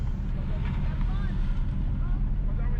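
A car drives northwest along Cashew Avenue in Portmore Pines, Portmore, St. Catherine, Jamaica, giving a steady low engine and road rumble with wind buffeting, continuous and close throughout.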